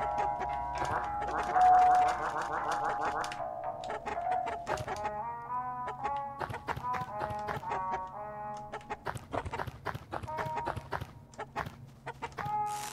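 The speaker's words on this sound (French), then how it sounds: "Elle est belle petite poule." Clucking of a hen inside the video game LISA, game music playing throughout and a voice speaking over it, with the bird calls mixed into the busy soundtrack.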